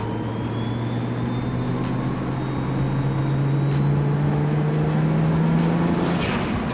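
Built N54 BMW 335i pulls hard, its engine drone climbing steadily in pitch under a rising turbo whine inside the cabin, ending in a sharp whoosh as it lets off.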